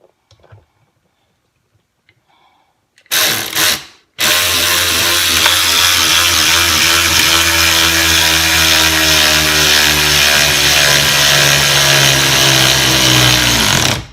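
After near silence and a short mechanical burst, a loud 20V cordless ratchet whirs continuously at close range, straining steadily as it drives a long 11 millimeter bolt.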